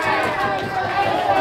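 Loud, dense crowd hubbub fills an indoor hall at the AEBF Nationals 2022 Open Teams preliminary final, a steady wash of chatter and cheering with no gaps.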